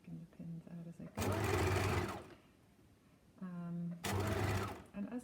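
A sewing machine stitches a collar onto a curved neckline in two loud bursts of rapid stitching, with short pauses between them and quiet handling of fabric.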